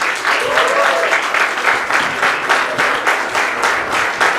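Audience applause at a comedy show, steady dense clapping filling the room throughout, close and loud, with no talk over it.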